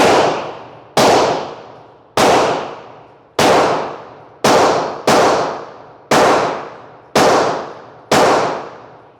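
Ten loud, sharp gunshots from a 10mm pistol at a shooting range, fired at an uneven pace roughly one per second, each blast ringing off in a long decaying echo, with no talking.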